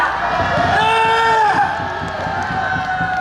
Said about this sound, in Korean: 조영환 대표님을 큰 박수로 모셔보겠습니다.